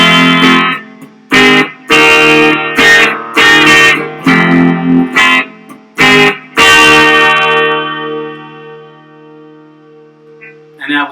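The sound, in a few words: electric guitar bridge pickup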